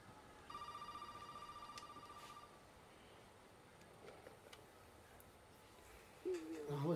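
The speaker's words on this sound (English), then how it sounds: "Oh, the phone's ringing." Telephone ringing in Resident Evil 7: a faint repeated electronic ring tone for a couple of seconds, followed by quiet ambience and a short louder tonal sound at the end.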